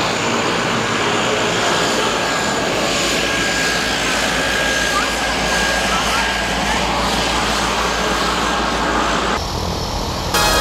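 Steady, loud drone of a skydiving airplane's engine fills the whole stretch, near and continuous, with a slight change in tone near the end; faint voices may sit under the roar.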